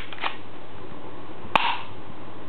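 An MP900 airsoft spring gun with a metal magazine is cocked and reloaded: one faint click, then after a pause a sharp, close mechanical snap with a short rattle, heard alone.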